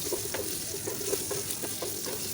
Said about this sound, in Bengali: আলু দিয়ে সামান্য পরিমাণে একটু হলুদ দিয়ে লাল লাল করে আলুগুলো ভালোভাবে ভেজে নেব।